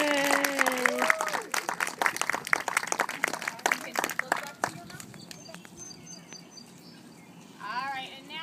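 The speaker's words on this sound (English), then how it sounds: "So we'll give them a nice big clap." An audience at a preschool promotion ceremony gives lively applause that thins out and fades, and then a voice speaks quietly afterward.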